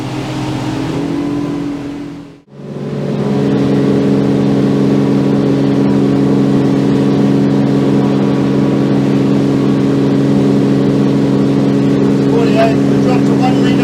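A 300-horsepower outboard motor on a Seaking Hunter 720 boat holds a steady drone at about 4600 rpm. A brief dip near the start gives way to a loud, constant engine hum with strong low harmonics.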